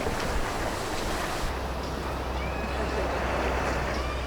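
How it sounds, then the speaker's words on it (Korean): Rough sea on a shipping route toward Jeju and the southern coast, a constant rushing wash of waves and wind noise against the boat, loud and unbroken, with a low engine hum entering partway through. "제주도와 남해로 향하는 항로엔 파도가 거셌다"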